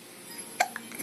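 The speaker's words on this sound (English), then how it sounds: "Those darn hiccups." A child's hiccup, one clear hiccup near the middle and a softer second one shortly after, close to the microphone in a quiet room with no talking.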